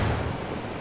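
Grenade explosion in Ghost Recon Wildlands, heard as a short, deep, rumbling blast that fades off as a low roar with no voices.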